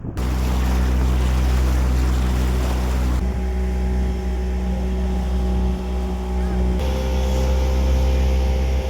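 Continuous loud motorboat engine drone and wind rush during a sea boat ride off Dublagadi beach, with a steady low hum that shifts pitch partway through, no clear talk.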